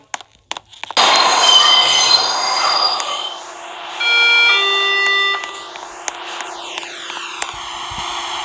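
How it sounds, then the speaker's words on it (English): A train arrives at a station, with a loud rush of rolling wagons, sustained metallic wheel squeal and brake tones, then a quieter idling hum with faint clicks. "The train is arriving."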